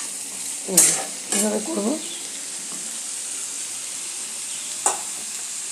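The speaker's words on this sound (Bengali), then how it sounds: "আলু ঝিঙে, এটাকে একটু ভালো করে ভাজবো" Potato and ridge gourd pieces fry in oil in a pan, a steady soft sizzle running throughout while a voice speaks briefly near the start, with a light clink of the utensil near the end.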